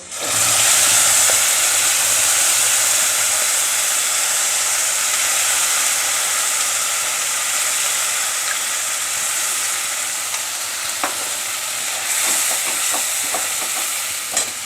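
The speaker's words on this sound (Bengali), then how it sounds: "এবার আমি মশলাটা দিয়ে মশলা কষাতে থাকবো" A paste of cumin, ginger, garlic, onion and tomato frying in a pan, a loud, continuous sizzle and hiss with occasional stirring clatters near the end.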